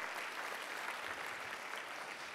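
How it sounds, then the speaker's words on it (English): Faint audience applause rises at a live social-innovation pitch event, a brief continuous patter of many hands clapping, heard from a distance. "Give yourselves a round of applause for continuing to support this great event."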